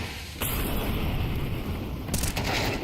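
Gunfire from a Counter-Strike match in the BIG vs FlyQuest grand final at ESL Challenger Atlanta 2024 breaks out in sharp, loud volleys that crackle on with dense shot bursts for a few seconds.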